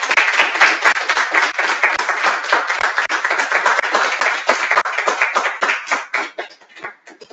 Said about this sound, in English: Now, conclude this AGM through a round of applause.